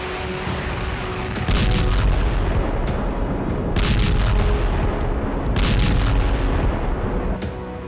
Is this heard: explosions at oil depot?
yes